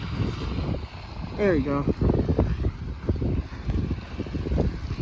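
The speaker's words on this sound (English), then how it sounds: "Now it's just getting windy." Strong gusts of wind buffet the microphone during a 2024 New Jersey blizzard, a steady low roar with swelling gusts, while a person speaks briefly partway through.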